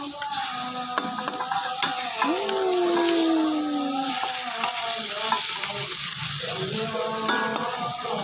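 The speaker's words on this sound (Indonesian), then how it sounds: "Udah kita masak rendang guys" Rendang cooking in a pan gives a steady close sizzle, with irregular scraping and stirring clatter throughout and no talking.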